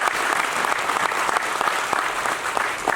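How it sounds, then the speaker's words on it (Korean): An audience at a book concert in Ansan applauds warmly, dense continuous clapping from a crowd in a hall, filling the full three seconds. "박수 한번 좀."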